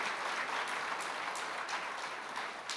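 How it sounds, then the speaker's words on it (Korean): A church congregation applauds for the choir with brief, dense clapping at moderate distance. "우리 박수 한번 합시다. 성가대를 위해서."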